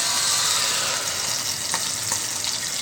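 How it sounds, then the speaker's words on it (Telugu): Slit green chillies fry in hot oil in a pan, giving a steady, close sizzle with a few brief crackles and no talking. "ఈ మిరపకాయలను చీల్చుకున్న మిరపకాయలను నూనెలో వేసుకొని మూత పెట్టుకోవాలి"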